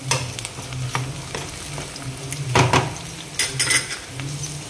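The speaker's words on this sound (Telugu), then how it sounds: "మన ఉల్లిపాయలు కూడా వేగిపోయినాయి." Onions frying for a Telugu pesara punukulu pulusu, with a steady sizzle in the pan and a spoon scraping and clinking against the metal as they are stirred, close and moderately loud.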